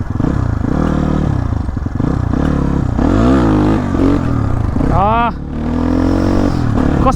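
A Kayo dirt bike ridden off-road gives a loud, close engine drone with repeated revving swells and rattling clatter from rough ground, and a rider's voice is heard over it.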